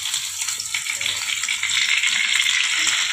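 Fish heads frying in plenty of hot oil give off a loud, steady sizzle and crackle that swells slightly toward the end, with no voices over it.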